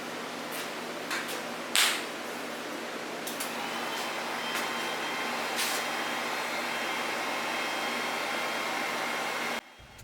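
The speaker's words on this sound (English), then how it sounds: "apologize for the heater noise that comes and goes throughout the video" A garage heater runs with a steady broadband whoosh and low hum, fairly quiet, with a few faint clicks and taps over it, then cuts off abruptly near the end.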